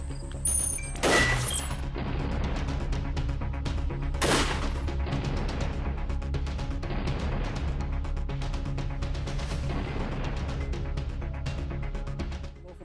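SRM16 shotgun loaded with buckshot and slugs blasting at an armored Mercedes W140, with two sharp, loud reports standing out over a constant roaring, crackling din, no talk.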